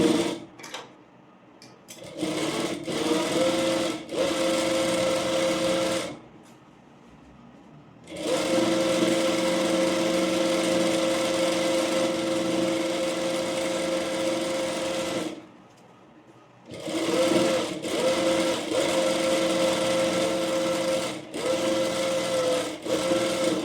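Sewing machine top-stitching a blouse, running in long steady bursts separated by short pauses, close and fairly loud with no talking.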